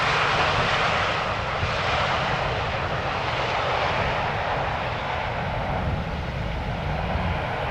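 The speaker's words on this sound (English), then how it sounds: "Transavia flight 5312 having arrived from Corfu" A Transavia jet airliner arriving at Amsterdam Schiphol Airport from Corfu roars loudly and steadily close by, its engine noise a broad, sustained rush with no pauses.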